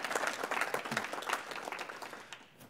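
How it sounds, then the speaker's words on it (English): An audience at a talk on the World War I Eastern Front gives a dense round of applause, loud at first and gradually thinning out. "Could you join me, please,"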